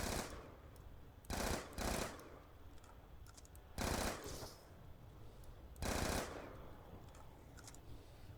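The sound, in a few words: assault rifle tap firing in Zombies video game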